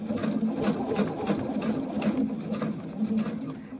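A domestic sewing machine stitches a sleeve placket on fabric, a steady close rhythmic whirr of needle strokes running continuously alone, without pause.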